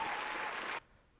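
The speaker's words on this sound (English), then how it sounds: "Round of applause." A short, bright burst of applause from a small group in a podcast studio lasts under a second and stops abruptly, leaving near silence.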